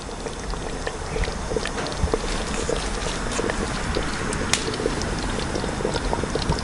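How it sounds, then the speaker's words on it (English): Chicken and mushroom potjie simmering slowly in a cast-iron pot, a steady dense bubbling and crackle with faint ticks, close and continuous throughout. "All the mushrooms are melting down and going into the liquid, and that's how you want it, just a nice slow simmer."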